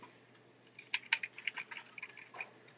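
A burst of computer keyboard key presses while toggling snap with a shortcut in 3D modeling software during product design work, several quick clicks close together, moderately quiet with no talk.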